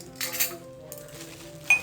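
Brass serving spoons, one larger and one smaller, clink faintly against each other as they are handled, with a few soft metallic taps and a brief brighter chink near the end.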